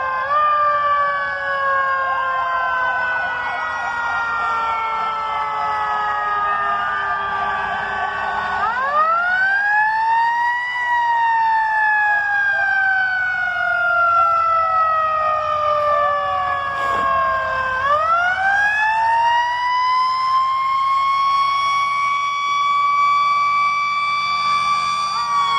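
A fire truck siren at a Christmas parade carrying Santa, wailing loud and close in long rising and falling sweeps that repeat for the whole stretch without any speech.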